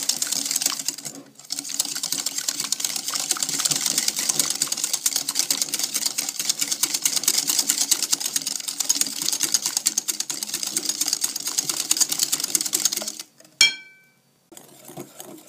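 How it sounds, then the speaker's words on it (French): Eggs and sugar whisked vigorously by hand in a bowl for madeleine batter, a steady, fast, rattling scrape that runs continuously for about thirteen seconds before stopping abruptly, followed by a brief clink. "Rajoutez le sucre à notre mélange et continuez à mélanger énergiquement."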